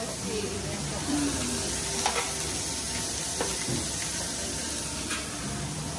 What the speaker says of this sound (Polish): tam jest steki się smażą